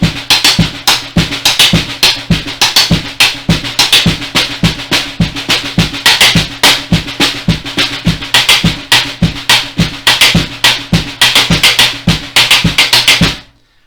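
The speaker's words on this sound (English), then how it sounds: "you can even hit the rim of the drum to get a totally different sound" A drum shuffle with accents struck on the rim of the drum. The pattern is an even, rapid run of sharp strokes with recurring louder hits, played close and alone for over ten seconds before ending abruptly.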